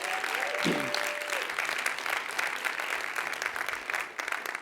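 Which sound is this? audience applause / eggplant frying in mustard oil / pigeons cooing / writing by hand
audience applause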